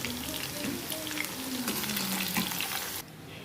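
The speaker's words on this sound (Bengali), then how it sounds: "নুন দিয়ে আলুটাকে ভেজে নেব এই যে আলুটা সুন্দর করে লাল লাল করে ভাজা হয়ে গেছে" Potatoes frying in oil give a dense, close, continuous sizzle with faint stirring scrapes, loud and steady until the hiss drops sharply near the end, with no talking.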